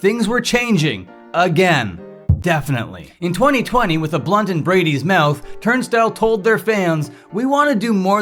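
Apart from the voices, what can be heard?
No everyday noises stand out.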